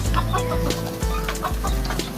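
Several breeder laying hens clucking in short bursts, fairly close, over a steady low background hum; no talking.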